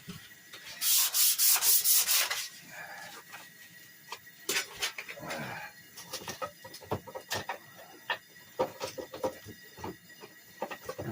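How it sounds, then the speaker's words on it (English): Hand sanding a part of a 1969 Coleman 426D three-burner stove: a loud, rhythmic burst of rasping strokes up close, then quieter scattered scrapes and taps. "Hand sanded."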